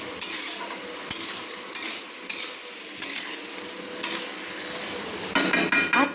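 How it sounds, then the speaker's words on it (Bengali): Cabbage and prawn curry being stirred in a pan, a spatula scraping and clattering in repeated strokes over a low sizzle, with a quick flurry of clinks at the end, close and clear without talk. "দিয়ে আমি ভালো করে একটু নেড়ে নিচ্ছি"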